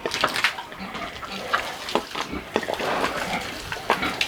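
Water from a hose splashes and sprays over pigs in an uneven, continuous wash, with faint pig grunts mixed in.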